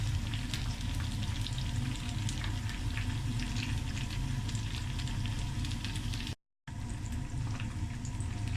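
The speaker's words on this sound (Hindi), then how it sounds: "ये देखें हमारी फ्राइज़ जो हैं वो फ्राई हो चुकी हैं, हम इन्हें निकाल लेंगे।" French fries frying in hot oil, giving a steady, dense, continuous sizzle with crackling pops throughout, unbroken except for one brief dropout near the end.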